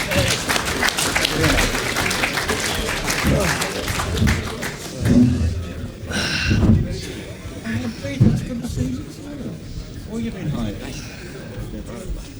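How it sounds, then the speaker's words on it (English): Audience applause at a radio station reunion event, a continuous wash of clapping heard under and mixed with talking voices, with a few louder swells. "Round of applause for Vic and Graham Gill."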